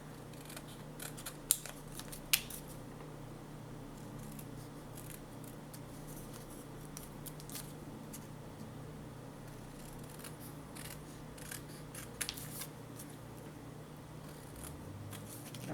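Scissors snipping steadily around the edge of a paper scrapbooking card to trim a narrow border, a quiet run of close, crisp cuts with a few sharper snips.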